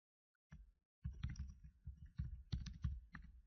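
Typing on a computer keyboard, a quiet close run of short key clicks in uneven bursts after a brief silence.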